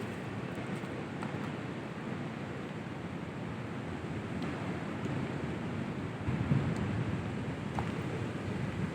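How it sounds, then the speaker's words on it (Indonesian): Large ocean waves break on the beach at Pantai Ngalur, a continuous, close, broadband roar of surf with gentle swells and no voices. "Ombaknya sangat besar banget."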